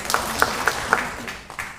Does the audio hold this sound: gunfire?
no